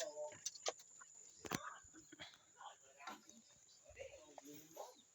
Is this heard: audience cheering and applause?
no